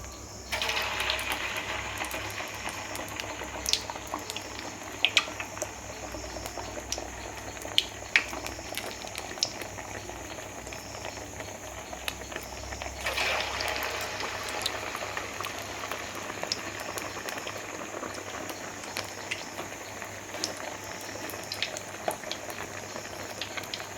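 Small leftover-rice vadai sizzling in hot oil, a steady close crackle and bubble running throughout with occasional sharper pops.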